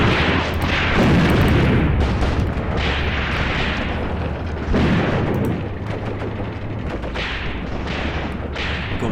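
Battle audio from the Graviteam Tactics: Mius Front war game, set on the 1942 Soviet front: rolling artillery-style booms and crackling gunfire run continuously, with heavier swells of explosions every few seconds.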